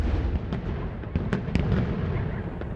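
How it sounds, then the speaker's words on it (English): Cannon blasts from the film Dune 2 boom out as a series of heavy, rumbling detonations, several sharp hits over a dense continuous low roar, loud and close. "there are these fantastic, almost like cannon blasts"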